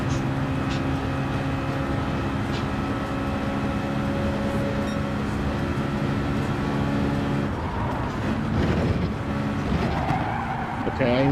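A race car in the Gran Turismo 7 video game drives at speed, its engine droning steadily and then dropping and whining as it brakes, with tyre noise near the end.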